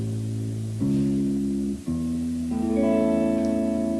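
Clean guitar tones from a blues lesson: a sustained chord followed by single notes (root, third and fifth) ringing one after another against it, each change marked by a fresh pluck.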